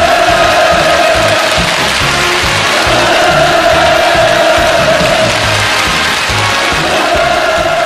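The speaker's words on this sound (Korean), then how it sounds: "폭풍 같은 만세 환호성이" A huge crowd roars with stormy hurrah cheers and ovation as Kim Jong Un appears on the platform before North Korean army medical personnel, a sustained, loud, unbroken wall of massed shouting.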